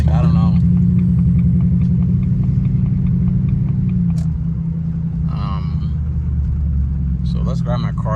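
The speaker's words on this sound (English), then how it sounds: "it's that kind of like tapping noise in the exhaust" Jaguar XJR engine idling with a misfire, a steady close low rumble carrying a faint repetitive tapping from the exhaust, with brief bursts of talk over it.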